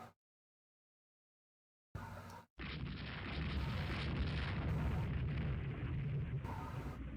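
Naval shells from a warship battle in the strategy game Rule the Waves 2 strike an enemy vessel: after near silence, a short burst gives way to a loud, sustained rumble of heavy booms and blasts.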